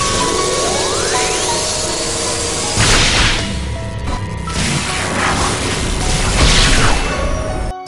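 A time machine sound effect, a loud, continuous mechanical whirring with hissing sweeps and rising tonal whines that swell and surge in several waves.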